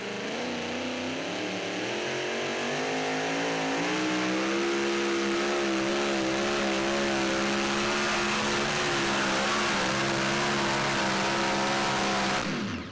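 Wesley Foster's 'barbed wire' Dodge super modified 2WD pulling truck roaring on a pull at Franklin, Kentucky, its loud engine climbing in pitch and holding a sustained howl before cutting off abruptly.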